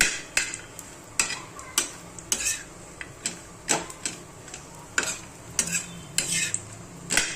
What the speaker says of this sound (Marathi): आता इकडे आहे ना हे खोबरं ब्राऊन कलरपर्यंत भाजून घ्यायचं